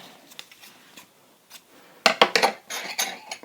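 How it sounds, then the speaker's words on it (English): Metal scissors picked up from a crochet work surface, a few faint clicks followed by a louder burst of sharp metallic clinks and rattles. "Grab our scissors."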